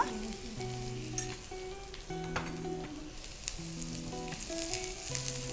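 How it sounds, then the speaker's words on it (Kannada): Onions frying in a pan for a Karnataka-style dill leaf and split lentil palya, with turmeric added, give a steady close sizzle. Soft musical tones play over it throughout, and no one speaks. "ಇದೊಂಚೂರು ಫ್ರೈ ಆಗಿದೆ ಅಂತ ಅನಿಸಿದ್ಮೇಲೆ ಹಾಂ ಸ್ವಲ್ಪ ಅರಶಿನ"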